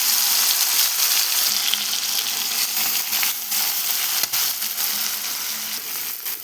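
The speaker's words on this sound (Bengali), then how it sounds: "কড়াই তেল দিয়ে দিয়েছি মাছগুলো সব ভেজে নেবো" Prawns fry hard in hot oil in a wok, a loud, steady sizzle and crackle that runs throughout with a few sharp pops and no voices.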